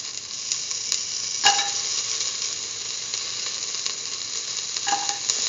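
Garlic frying in a pan for a potato and cucumber rice dish, a loud continuous sizzle close by with a couple of sharp clinks from stirring.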